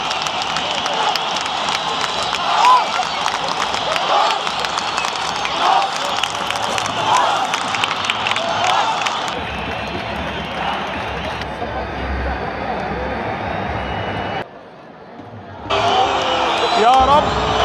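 Egyptian fans cheering in the stands at the Egypt vs Kuwait match of the 2025 Arab Cup, a loud sustained crowd roar with chanting and voices that briefly drops before surging again.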